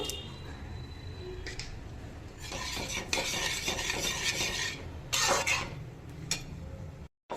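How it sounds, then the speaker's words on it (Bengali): Sugar stirred into strained, cooked chana dal: a steady run of close, soft scraping and swishing from a spoon in a pot, with a few brighter clinks and a short pause near the end. "চিনিটা মিশিয়ে নিলাম।"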